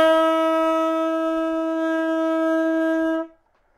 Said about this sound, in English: But now, adding the rest of the saxophone to it.